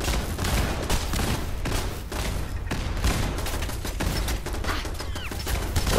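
Enemies fire on the player in Fallout 4. Dense, loud volleys of gunshots crackle in rapid succession with scattered thuds, sustained for several seconds.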